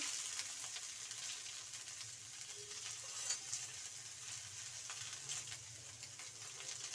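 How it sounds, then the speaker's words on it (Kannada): Garlic, onion, tomato and coriander sizzle steadily in hot oil in a home kitchen pan, a continuous crackling fry with occasional stirring scrapes, no one talking. "ಹಾಕಿ ಫ್ರೈ ಮಾಡಿ ಎಣ್ಣೆಯಲ್ಲಿ"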